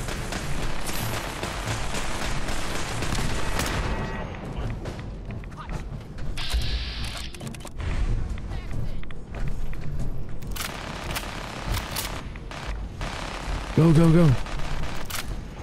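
Enemy gunfire in the video game Fallout 4, scattered shots and bursts crackling through a busy battle soundscape, with a player talking over it throughout.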